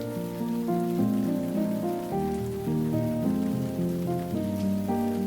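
Steady, even rain patters continuously beneath soft, slow tonal music, with no voices present.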